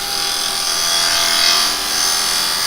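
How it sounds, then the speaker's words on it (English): A spindle gouge cuts a spinning wooden workpiece on a woodturning lathe, giving a steady, close scraping hiss with an even hum underneath and no talk. "And now I'm going back to my spindle gouge. I'm going to just soften that edge."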